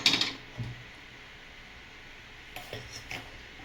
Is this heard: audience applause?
no